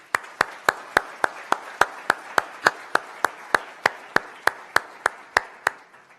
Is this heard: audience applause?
yes